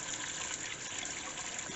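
Hot water runs steadily from a kitchen tap into a sink, a constant broadband rush with no breaks, close and moderately quiet.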